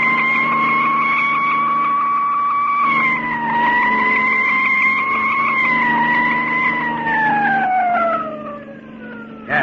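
A loud wailing siren holds a steady tone, dips and rises, then slides downward near the end, with a vehicle engine rumbling beneath it.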